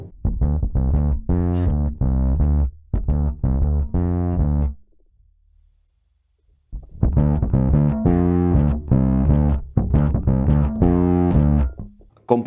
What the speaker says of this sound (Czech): Crunch je jakýsi slabý zkreslení.